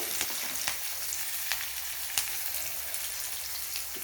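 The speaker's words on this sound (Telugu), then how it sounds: "ఇప్పుడు పచ్చి కరింపాకు కొంచెం వేస్తున్నాను అందులో" Fresh curry leaves sputter and crackle in hot oil as a tempering for tomato chutney, a steady close sizzle punctuated by several sharp pops, with no talking.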